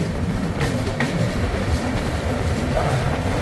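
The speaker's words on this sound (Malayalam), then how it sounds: "അപ്പുറത്തൂടെ വേറെ ട്രെയിൻ." A train passes nearby with a steady, dense rumble and rattle throughout, heard from on board a passenger train at night.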